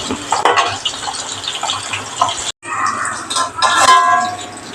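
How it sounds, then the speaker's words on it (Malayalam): Tempering poured into Thrissur-style fish curry, liquid pouring and splashing into a pot, with a brief silent gap midway and a louder sizzling gush afterward. "ഇതിലേക്ക് ഇപ്പം ഞാൻ താളിപ്പ് ഒഴിച്ചു"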